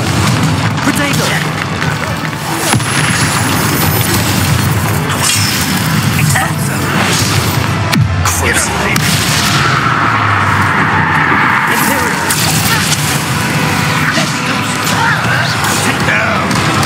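Spell explosions in Hogwarts Legacy combat, repeated booms, cracks and shattering bursts over a dense, loud battle bed, with a voice shouting throughout.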